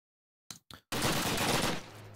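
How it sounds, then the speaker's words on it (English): Gunfire in the World War II shooter Call of Duty: two short sharp shots, a brief pause, then a loud sustained burst of automatic fire that fades slightly at the end. "Boom. Gunshots. Germans."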